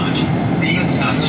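Steady, loud rumble and rushing noise of a Delhi metro train at a station. It runs continuously, close by and without pause through the short moment.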